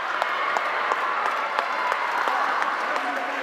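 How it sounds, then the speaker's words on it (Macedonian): Spectators at a cadet women's handball final between Kumanovo and Vardar applaud a goalkeeper with dense, continuous clapping throughout, a commentator's voice running over it. "Аплаузи за"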